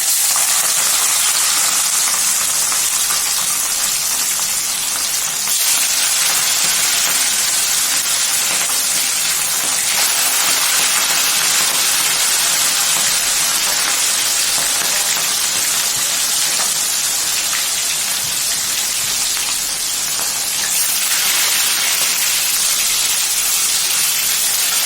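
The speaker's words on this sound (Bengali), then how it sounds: "এবার মাছগুলো ভাজছি একটা একটা করে।" Katla fish pieces frying in oil in a wok give off a continuous loud, dense sizzle that stays steady and close throughout, with no talking.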